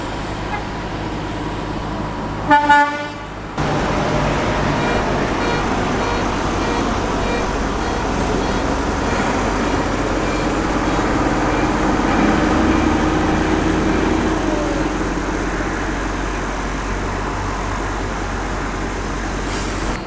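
A Volvo lorry rolls into a truck stop with a steady, broad engine and road rumble that holds for most of the stretch, after a brief burst of noise near the start.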